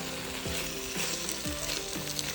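Tomato passata bubbles and sizzles in a hot pan for a rajma kidney-bean curry, and a spoon scrapes through it in a regular rhythm of about two strokes a second under the constant frying noise.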